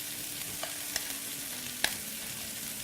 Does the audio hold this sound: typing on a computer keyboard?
no